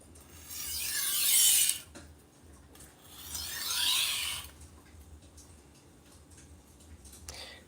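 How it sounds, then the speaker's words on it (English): A knife edge is stropped to knock down the burr in two long rasping strokes, each swelling and fading over about a second and a half, followed by quieter scrapes and small ticks against a hushed background. "I'm gonna start doing a stropping motion to lower that burr"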